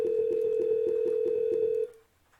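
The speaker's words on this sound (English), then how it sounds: "Right now it's dialing the scheduled callback that I created." Phone dialer software places a scheduled callback, giving a steady, loud electronic tone with a fast pulsing pattern for almost two seconds before it cuts off into near silence.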